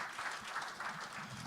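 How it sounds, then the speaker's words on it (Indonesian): A church congregation claps loudly and steadily together during a sermon, a dense wash of applause with faint rhythmic pulses and no voices over it. "Yang mengerti tepuk tangan dulu yang kenceng buat Tuhan kita yang baik."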